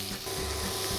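Root vegetables frying in olive oil in a hot pot, giving a steady, close hiss of sizzling with no talk over it.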